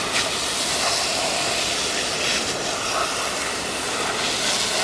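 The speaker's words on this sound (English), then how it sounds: "We'll just wash all the dirt and brake dust off first." Water spray washing dirt and brake dust off a rear brake backing plate and hub during a brake rebuild, a steady, loud broadband hiss running unbroken throughout with no talking.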